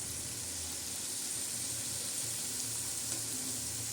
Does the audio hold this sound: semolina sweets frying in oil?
yes